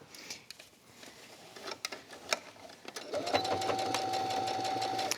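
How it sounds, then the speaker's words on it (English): A sewing machine stitches around the top of a quilted fabric tablet cover, starting with scattered clicks and then settling into a steady, close whirring run. "now we're just gonna stitch around the top"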